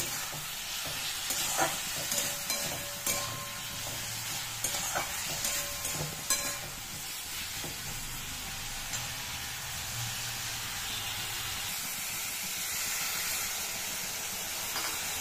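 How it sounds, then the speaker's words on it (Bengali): Spices and chili powder sautéing in a pan, a steady loud sizzle and hiss with scraping stirring strokes early on, continuing evenly throughout with no voices. "একটু লঙ্কার গুঁড়ো দিয়ে দিই"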